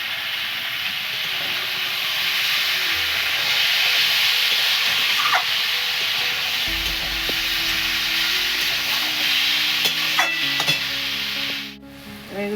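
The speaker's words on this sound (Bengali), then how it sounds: "এবার ছাতুগুলো দিয়ে একটু ভেজে নেব।" Mushroom pieces fry in hot oil with a loud, continuous sizzle. Intermittent scraping stirs break through, and the sound dips briefly near the end.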